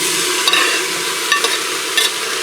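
Pork with onions, carrots and garlic sizzling in a pressure cooker pot, a continuous close frying hiss with a few brief scraping stirs, no talking.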